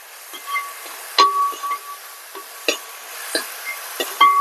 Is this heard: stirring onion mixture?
yes